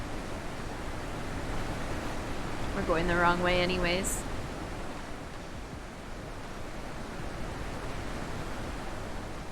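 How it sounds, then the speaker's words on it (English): Waterfall in The Witness, a constant broad rushing wash of falling water heard steadily throughout, with a person briefly speaking over it near the middle. "Oh, sorry for the waterfall noises."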